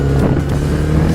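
A freshly repaired motorcycle engine runs loud and close, a steady droning hum with a slight dip in the middle and no voices over it.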